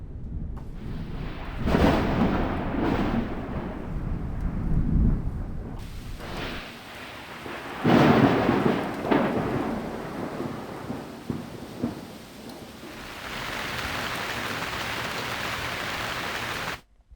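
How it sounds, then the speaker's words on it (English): Recorded thunderstorm effects from the UVI WaveFrame sound library: thunder rolls and cracks over steady rainfall, with several loud booming peaks and a constant hiss of rain between them. "there are some very nice and very well recorded thunderstorm effects in here"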